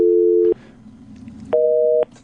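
Telephone call tone heard over the line: two loud steady tone bursts about half a second long separated by a pause, the second slightly higher.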